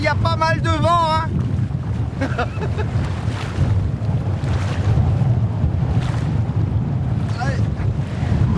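Heavy, constant wind buffets a fishing boat out at sea, loud and unbroken, with waves slapping below and scattered voices calling out over the gusts.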